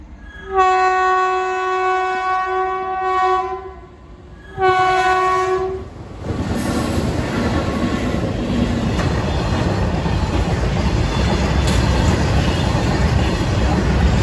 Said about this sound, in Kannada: ಇದು ಒಂದು ಟ್ರೈನ್ ಹೋಗಾಯ್ತಂತ ಅಂದ್ರೆ